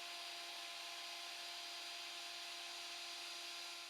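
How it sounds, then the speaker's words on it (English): A hand router fitted with a 3/4 inch radius round-over bit cuts along the top edge of a white oak barstool seat, giving a loud, steady, continuous whine with no pauses and no talking. "we use a hand router with a 3/4 inch radius bit to round over the top edge"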